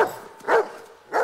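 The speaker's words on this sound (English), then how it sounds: "I'm like, what you barking at, boy?" A dog barks in a scene from the 2002 film Signs, three sharp, fairly loud barks spaced about half a second apart, heard alone with no talking.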